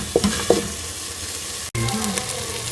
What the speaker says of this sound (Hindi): घी अलग होने तक हम 4 से 5 मिनट जो है वो अच्छी तरह से इसे भून लूँगी।